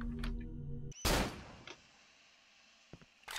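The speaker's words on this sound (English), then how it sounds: "Oops, didn't mean to shoot." A gun fires once in the horror video game Cry of Fear, a sharp loud blast with a short decaying tail, following a brief game sound and trailing into quiet with a couple of faint later clicks.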